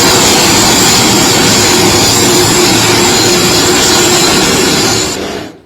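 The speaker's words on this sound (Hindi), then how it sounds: "ट्रंप का हेलीकॉप्टर लैंड हुआ है।" A helicopter lands in South Korea with a loud, continuous broadband roar of engine and rotor that holds steady, then cuts off abruptly at the end.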